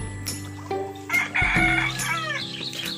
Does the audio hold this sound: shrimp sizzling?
no